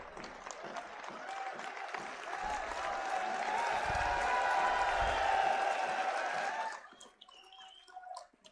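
An audience at a Jat community parliament gathering in Jaipur claps in a dense, sustained burst of applause that swells and holds for several seconds, then cuts off abruptly, leaving faint room noise.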